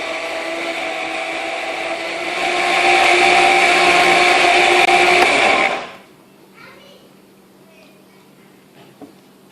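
Electric blender mixing iced mocha ingredients, coffee and drink powders, in a home kitchen: a loud, steady whirring motor that rises in pitch, runs for several seconds, then cuts off abruptly into near silence.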